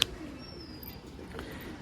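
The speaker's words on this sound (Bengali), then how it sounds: "জাস্ট পায়রা দেখুন আপনারা।" Large racing and tumbler pigeons at a pet shop coo softly in a low, steady murmur, with a faint click at the start and a high tone running briefly through the background.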